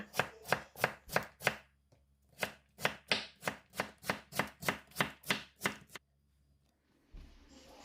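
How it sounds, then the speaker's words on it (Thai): A knife chops carrots into small dice rapidly on a cutting board, two quick bursts of about a dozen sharp, evenly spaced strokes each, close and loud, then quiet. "ต่อมาเราก็จะมาหั่นแครอทกันค่ะ"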